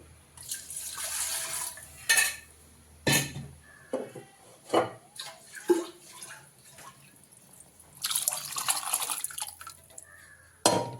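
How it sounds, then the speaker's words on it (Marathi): Hot water pours and splashes into a pot of mutton curry in several short bursts, with clinks of a utensil between them; no one speaks. "याला आपण थोडंसं गरम पाणी मी अजून वरून टाकते."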